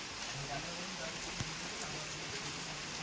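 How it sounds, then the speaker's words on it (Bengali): Steady rain falls on a homestay in the hills at Dawaipani, a continuous even hiss with a few sharper drop hits and a faint low voice beneath. "তো বৃষ্টি হচ্ছে একদম"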